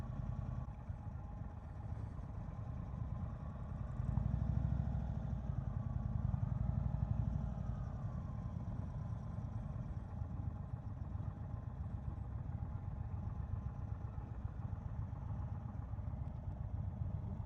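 A 2022 Indian Chief motorcycle engine idles steadily close by, a low, even rumble that swells slightly for a few seconds before settling back to a constant drone.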